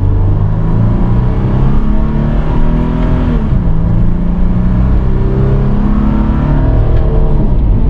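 Inside a 2021 Toyota 4Runner TRD Off-Road Premium, a 270-horsepower mid-size 4WD SUV, in sport shiftable mode. The engine accelerates with a steady, loud, rising drone, drops pitch briefly on a downshift, then climbs again, with no talk.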